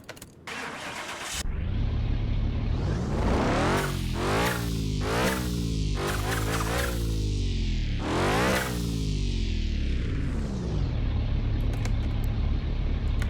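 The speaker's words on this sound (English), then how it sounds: "We can start the car now." A BMW M4 in the driving game Car Mechanic Simulator 2021 cranks, fires up and settles into an idle, with several sharp revs rising and falling before the engine drops back to a steady hum.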